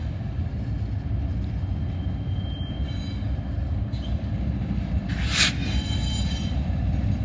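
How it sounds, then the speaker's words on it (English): A CSX ES74AH locomotive pushes an intermodal train of domestic containers, a steady loud rumble of rail cars rolling past close by, with a brief bright wheel squeal near the end. "And that is an ES74AH. Pushing here on this intermodal coming from Cincy, all domestics."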